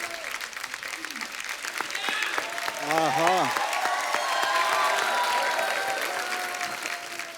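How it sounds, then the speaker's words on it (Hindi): A TV comedy studio audience on The Kapil Sharma Show applauds and cheers, with steady clapping and whoops rising midway while voices call out over it. "एक बार जोरदार तालियां गहराइयां की स्टार कास्ट के लिए"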